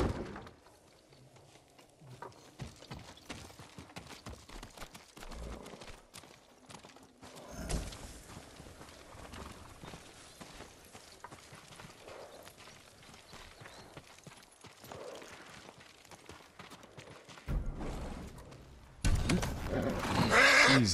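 A horse whinnies and hooves clop intermittently against a quiet backdrop in the video game Ghost of Tsushima, ending in a louder burst of noise.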